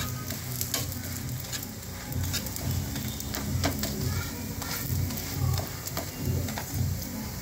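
Paratha frying in ghee on a pan, a steady dense sizzle with a crackly, rain-like texture, close and fairly loud, with occasional clicks and scrapes as the bread is handled and flipped.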